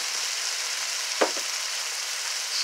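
Ground garlic sizzles in a hot pan for a stir-fried fish bone dish, a steady close hiss broken by one brief sharper crackle partway through, with no voices.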